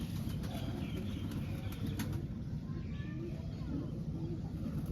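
Pet pigeons kept by a breeder, soft cooing and rustling close by over a constant low rumbling background, with scattered faint clicks.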